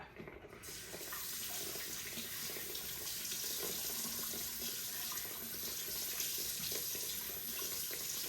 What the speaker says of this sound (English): you want to wash your face or rinse your face this way. You want to take the water and go this way